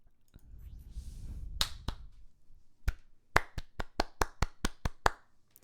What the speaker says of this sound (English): I clapped originally behind the microphone.